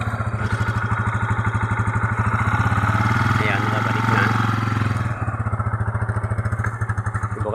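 A motorcycle engine with carburetor trouble runs on choke, a steady, loud, rapid putter throughout, rising slightly in the middle, while someone talks over it.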